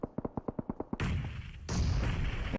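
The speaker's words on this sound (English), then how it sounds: "Oh, beautiful grenades getting sent on through." Grenades burst in a PUBG Mobile esports match: a quick run of about eight sharp gunfire cracks, then two loud booming explosions with long noisy tails, close and forceful.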